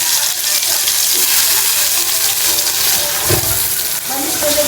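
Tomatoes frying in hot oil in a pan for Maggi noodles make a steady, loud sizzle that fills the whole stretch without letting up, with a brief clatter near the end.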